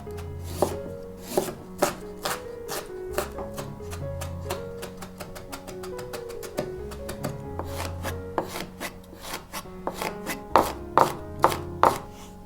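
A kitchen knife chops garlic, ginger and small red chili finely on a board, with rapid, steady knocking strokes that quicken into sharper, louder taps near the end.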